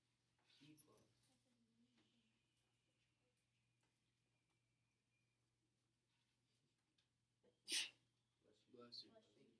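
A single sharp sneeze bursts out in a quiet room, loud and close, followed by a person speaking softly.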